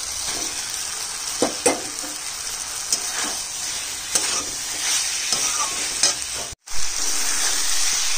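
Fried paneer is stirred into a vegetable curry with turmeric, cooking in the vegetable water. A loud, close, continuous sizzle runs under repeated stirring scrapes, with one brief cut to near silence.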